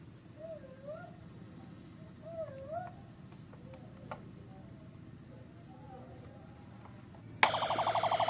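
A toy traffic police car suddenly bursts into a loud, rapid electronic warbling siren near the end, after a quiet stretch with soft handling noises.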